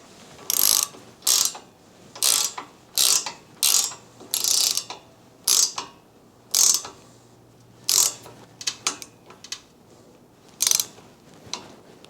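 A 1/2 inch ratchet tightens bolts on an AEV rear bumper and tire carrier, making a close, loud series of separate clicking strokes with brief pauses between pulls.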